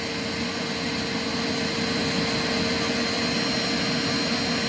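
Clean Obsessed co888 vacuum cleaner running with the hose attached and the power nozzle switched on, a loud steady roaring whine that holds constant throughout.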